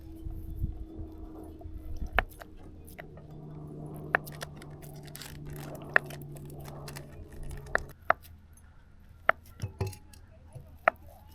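Spam being chopped up at a lakeside campsite: sharp, clicking chops land one by one at uneven intervals over a low background hum, with no talk.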